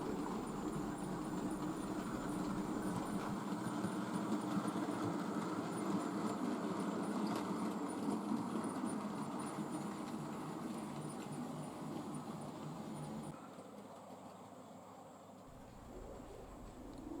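An Accurascale Buckjumper model locomotive hauling carriages runs non-stop around a model railway layout with a continuous, even rumble that drops off sharply near the end.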